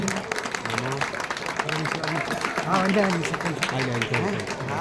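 An audience claps for a guest invited onto the stage at a temple chariot festival award ceremony. The applause is moderate and steady and sits under a loud voice and tonal sound.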